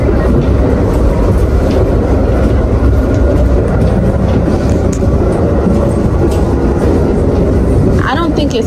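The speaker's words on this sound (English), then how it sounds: "So we on the train and it's like moving so much." A passenger train travelling from Michigan to Chicago gives a loud, constant rumble and rattle from inside the moving car, with a steady low roar throughout and a brief voice near the end.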